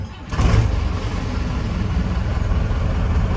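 A Ford F1000 turbo 4x4 pickup truck engine catches and settles into a steady, low rumbling idle, continuous and close by with no voices.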